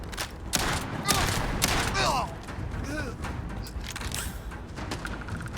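Rifle gunfire in the Starfield video game: a scattered volley of shots and thuds in a combat scene, with voices talking over the fighting.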